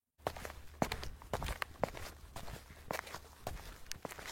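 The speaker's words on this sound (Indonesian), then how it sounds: "tiba-tiba kembali terdengar langkah kaki di belakang kami" Footstep sound effect in a night-time horror narration: steady walking steps, roughly eight evenly spaced thuds, close and moderately loud, with no talk.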